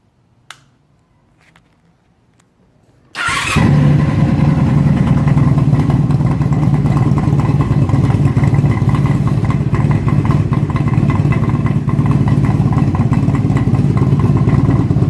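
A 1997 Honda Magna motorcycle runs with no exhaust baffles. A few quiet seconds give way to a sudden start, then a loud, steady, raw idle rumble close by.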